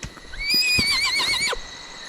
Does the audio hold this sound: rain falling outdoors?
no